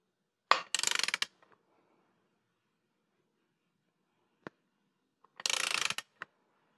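A Mercedes 560SL engine, with its rocker arms being installed, is turned over by hand through one full revolution. Two bursts of rapid ratchet-like mechanical clicking are separated by a quiet gap with a single sharp tick, close and clear.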